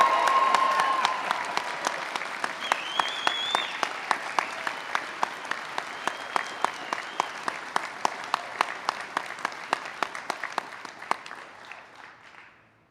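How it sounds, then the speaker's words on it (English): Graduation audience at a regional police academy ceremony applauding and cheering for the new cadets, a dense sustained wash of clapping with sharp individual claps and occasional whistles, steady throughout and fading out at the end. "yell and cheer and applaud for this group"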